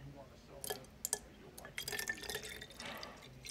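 Water splashes and gurgles in uneven bursts as it is poured into a bottle at a self-service car wash, close by.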